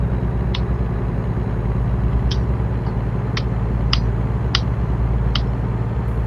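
A 2007-model truck engine with turbo in American Truck Simulator, a steady loud low drone throughout, with a few brief high hissing chirps breaking in at intervals.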